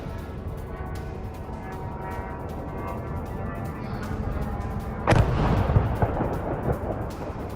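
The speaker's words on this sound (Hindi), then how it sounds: "पोल्टावा पर रूस ने दागी है इस्कैंडर मिसाइल" An Iskander missile strike explodes on a Ukrainian military post amid steady background rumble, one loud blast landing about two-thirds of the way through, followed by a rolling roar.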